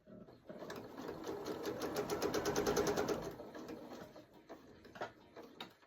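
A sewing machine stitches blue jean denim for a gift tag, its needle running in a fast, steady rhythm for a few seconds and then slowing to a few faint stitches.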